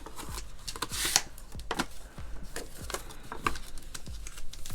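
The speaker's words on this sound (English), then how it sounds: "Just want to make sure they're all scored, and this paper is cracking" Cardstock paper being scored and cracking while a mini gift box is made, producing a run of crisp, close taps and clicks spaced irregularly, with no talk over them.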